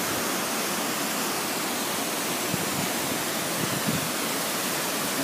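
Water pours over the full width of the Watchung lake spillway in a loud, unbroken roar, a dense broadband rush close by with no talk over it.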